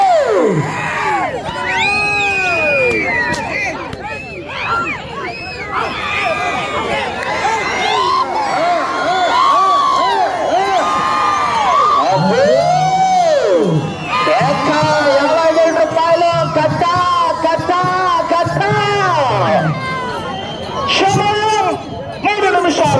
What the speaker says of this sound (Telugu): కేకలు చప్పట్లు సందడి సందడి